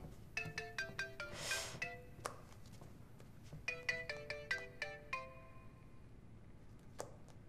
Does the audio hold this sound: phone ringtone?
yes